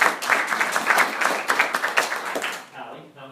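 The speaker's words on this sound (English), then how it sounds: "All right, now give her a round of applause." A small group at an insurance training session claps for several seconds, quite close with distinct individual claps, then fades as a voice begins to speak.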